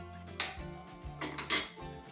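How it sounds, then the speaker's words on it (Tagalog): A spoon clanks and scrapes against a bowl while homemade siomai filling with oyster sauce, salt, pepper, flour and egg is mixed, giving several sharp metallic knocks amid close, steady stirring. "Haluin ulit ng haluin."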